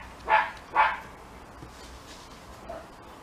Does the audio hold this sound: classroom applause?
no